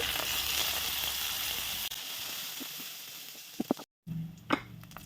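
Curry leaves and cumin seeds sizzling in hot oil with green chillies, a steady hiss that fades, then a brief cut and a few scattered pops and clinks near the end.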